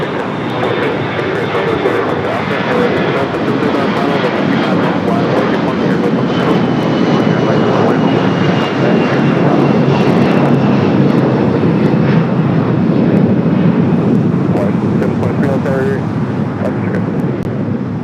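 An airliner takes off from runway 25 Right at LAX, its engines giving a steady, loud, broad roar that holds for the whole stretch with some wind buffeting.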